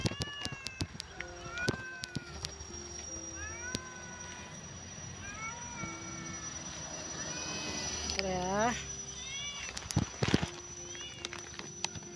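A hungry cat meows repeatedly beside a garbage pile, a steady series of short, close cries with a louder, drawn-out wail near the end, amid sharp clicks and a low background murmur of voices.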